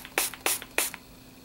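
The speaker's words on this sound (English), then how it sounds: "I close it out with another spritz of my e.l.f." Three quick hissing spritzes of an e.l.f. makeup setting mist, close and crisp, evenly spaced in a short burst with a faint pump click after each.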